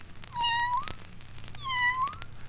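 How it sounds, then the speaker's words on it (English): Two thin, high kitten meows, each short and rising slightly, spaced apart against a quiet background. "When she meowed, it was just a tiny sound, like this."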